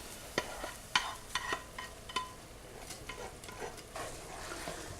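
Tomatoes hit a pan over medium-low heat and give a soft, fairly faint sizzle, broken by several sharp clicks and knocks of a utensil against the pan near the start.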